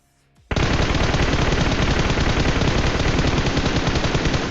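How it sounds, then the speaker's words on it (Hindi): An M416 rifle fires in a mobile shooter game: after a brief quiet moment, a dense, unbroken burst of automatic gunfire starts abruptly and stays loud and close to the end, with no speech. "वहां से ही गोली चलाया जा रहा है।"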